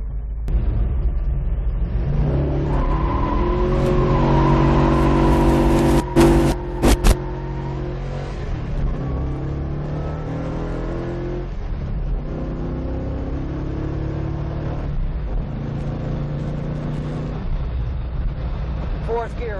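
Old Ford Mustang with a 5-speed conversion accelerating from a stop through its gears, engine drone rising and falling with each shift, loud inside the car with brief clunks and someone talking over it.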